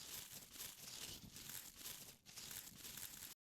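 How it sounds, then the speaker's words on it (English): Granular synth layer built from a recording of leaves being scraped, a dense crackling, rustling texture with soft swells, continuous and faint before cutting off abruptly. "And so on this one, I just have this scraping leaf sound."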